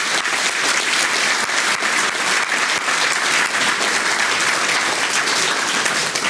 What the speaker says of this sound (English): please join me in a round of applause for Diane